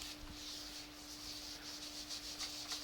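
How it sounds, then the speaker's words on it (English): Steady, soft rubbing as saddle soap is worked into the surface of an old, scratched leather suitcase, a continuous faint scrubbing texture with no pauses or voices. "All I'm doing is applying this saddle soap to the original suitcase."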